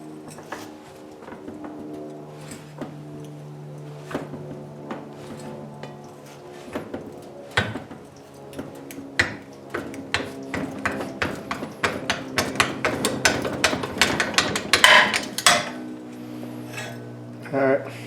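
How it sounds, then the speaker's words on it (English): Metal clanks and taps ring out as a big crescent wrench works against a part on an Exmark Ultra Vac mower, sparse hits at first, then growing into rapid, louder metallic knocks close by, with someone speaking briefly. "Just going to use a big crescent wrench,"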